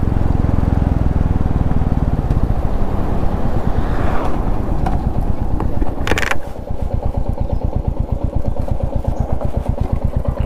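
A Bullet motorcycle engine thumps with a steady rhythmic beat while moving along a forest road, mixed with heavy wind rush on the microphone, then the engine note settles into clearer, even pulses.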